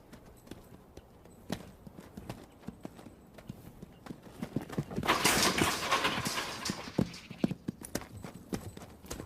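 Hooves of an unhandled two-year-old quarter horse stud clip-clop across open ranch ground in Northern California, a steady run of close, sharp hoof strikes that grows denser and louder midway with a burst of rushing movement.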